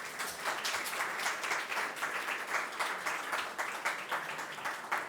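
An audience at a Czech real estate talk for expats applauds steadily, a dense, continuous patter of many hands clapping at close-to-mid distance, without voices throughout.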